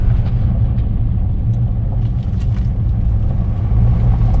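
Steady low rumble of a car driving along a road on the way out of Rome, a continuous close engine and tyre drone with no gaps, in wet weather.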